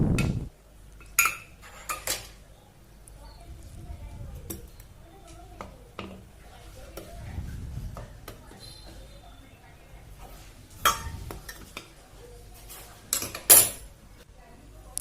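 Steel dal container lifted out of a pressure cooker after cooking rice and dal, giving scattered metallic clinks and knocks of varying loudness with soft handling noise between them.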